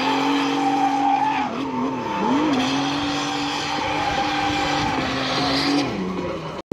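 Drift cars at round 2 of the Bulgarian drift championship skid with loud, sustained tire squeal over steady, wavering engine howl, continuous and close throughout before cutting off at the end.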